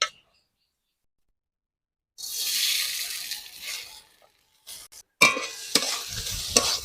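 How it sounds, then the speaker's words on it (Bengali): Rice fried in a kadai for Gobindobhog pulao, stirred with a spatula, making bursts of sizzling and scraping with brief pauses between strokes, close by and moderately loud. "মেখে রাখা চালটা আমি কড়াইয়ের মধ্যে দিয়ে একটু সামান্য নাড়াচাড়া করে ভেজে নেব"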